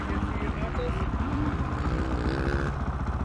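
A motorcycle ridden hard on a sand track after a month off, its engine a steady, loud, gritty drone that holds throughout with slight revving swells.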